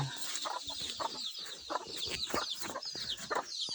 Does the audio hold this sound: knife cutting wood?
no